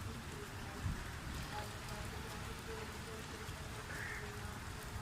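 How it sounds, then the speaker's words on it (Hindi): Rain falling during a cool monsoon-type shower, a soft continuous patter and hiss of drops heard from indoors, faint and steady throughout with no voices. "छम छम बारिश है।"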